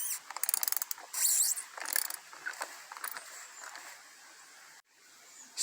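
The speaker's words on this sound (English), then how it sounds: "It takes a little bit of wiggling to get the wrench on the filter. Turn in a counterclockwise direction until loose." A filter wrench works at the oil filter on a 2013 Mercury 25 hp EFI outboard, giving off a quick run of close mechanical clicks and ratcheting scrapes that fade to a quieter metallic rustle.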